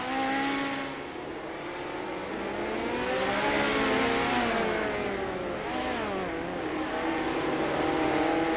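Race cars circle a dirt track in the Chili Bowl racing video game, with loud engines revving and droning continuously as several cars rise and fall in pitch through their passes.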